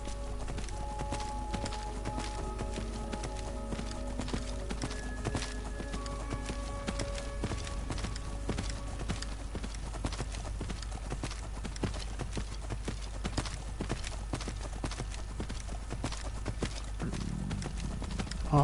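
Arvak, a spectral horse in the Skyrim video game, trots with steady, rapid hoofbeats clip-clopping over a low droning background, with occasional faint tones from the game's music.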